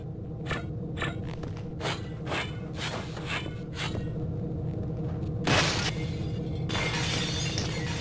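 Glass shatters loudly in a video game, with a series of sharp crashes and tinkling breaks over a steady low rumble, followed by a longer burst of breaking glass near the end.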